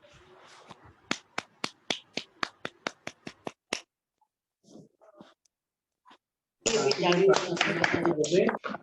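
Clapping from a Zoom church meeting: a run of sharp, evenly spaced single claps heard clearly and close, then a pause with faint sounds, followed by a burst of dense, overlapping applause.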